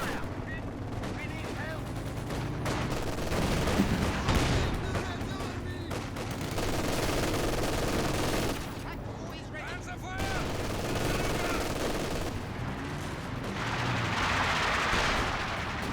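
A Sexton artillery barrage in Company of Heroes 2 lands as a dense run of booming blasts and crackling gunfire that goes on throughout, with a commentator talking over the battle.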